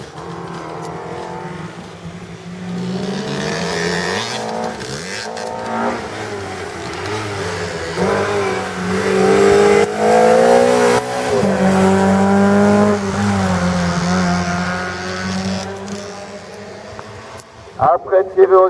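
A Renault Clio Cup race car at the Dunières hillclimb, its engine revving hard with a pitch that climbs and falls through repeated gear changes, loud and close, building toward a sharp burst at the end.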